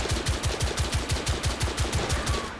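Rapid automatic gunfire from The Order 1886 video game, a fast, evenly spaced burst of about a dozen loud shots in a steady rhythm that trails off near the end, with no talking over it.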